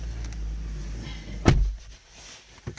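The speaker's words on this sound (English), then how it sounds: "shut this door." The door of a Hyundai Ioniq 5 shuts with a single solid thump from inside the cabin, followed by a faint rustle and a small click.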